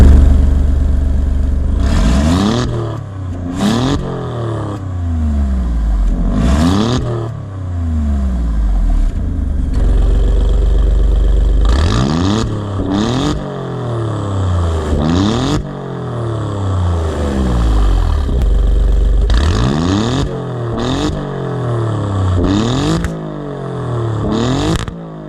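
Alfa Romeo Giulia Quadrifoglio engine revving repeatedly, loud and close, each sharp blip climbing and then falling back to idle in a series of roughly evenly spaced bursts with crackling overrun.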